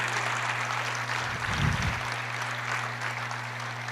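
A church congregation applauds during a prophetic sermon, a dense, even wash of clapping that fills the room for a few seconds.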